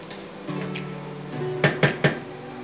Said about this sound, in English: let me break up some of these bigger clumps of rice here